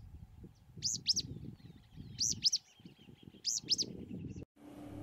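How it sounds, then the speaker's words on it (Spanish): A pijuí spinetail calls from shrub branches beside a large salt lagoon, giving three groups of quick paired high chirps spaced a second or so apart over a low rumbling background. "También entre sus ramas posaba y vocalizaba un pijuí."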